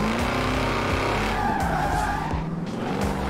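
A Ford Shelby drifts in Forza Horizon 4 on half throttle, its engine roaring steadily while the tires squeal continuously through the slide, close and loud with no talking.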